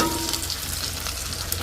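Curry leaves frying in a pan in a Jaffna village kitchen, a steady soft sizzle and crackle of hot oil heard close and alone.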